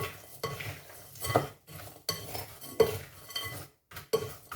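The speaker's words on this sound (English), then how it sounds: "we're going to mix all of this together. Good thorough mix." Assorted oil-free nuts being mixed with salt, cayenne and spices in a bowl, a series of close rattling, scraping strokes with clinking utensil taps that come in uneven bursts separated by brief pauses.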